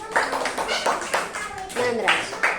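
Young first-grade children clap together in a classroom, a short burst of several rhythmic claps close by, mixed with a teacher's and kids' voices.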